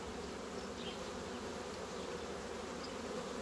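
Honeybees buzzing on a frame of a hive, a steady dense hum close up with no voices, continuous and even throughout.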